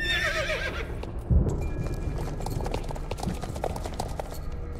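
A horse in the Star Stable video game whinnies, then its hoofbeats clip-clop away in a quick rhythm, fading slightly as it runs off.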